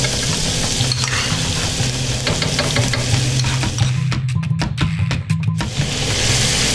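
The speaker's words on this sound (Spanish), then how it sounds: "Ponemos la cebolla y acitronamos." Onion sautéing in local ranch butter makes a loud, continuous sizzle with stirring scrapes, and a burst of sharp crackles and pops near the end.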